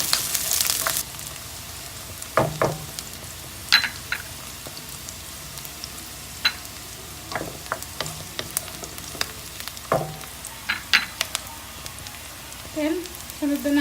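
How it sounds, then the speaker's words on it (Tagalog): Chopped onions sauté in a pan for a Filipino ginisang sayote with ground pork, giving a steady close sizzle broken by scattered clicks and taps of stirring, with light kitchen handling noises throughout. "Pag ako po nagigisa, inuuna ko po ang sibuyas."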